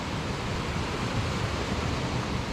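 The Thompson River rushes beneath a bridge as a steady, dense broadband roar of flowing water, close and continuous, with no voices.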